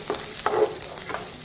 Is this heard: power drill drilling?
no